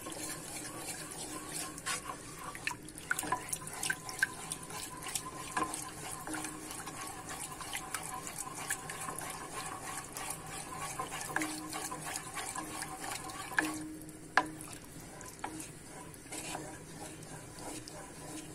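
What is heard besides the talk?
cold water poured in while cooking tarhana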